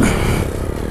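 Motorcycle engine running rough at idle and revving, heard close and loud with a steady low rumble and some clatter, ridden on a muddy trail.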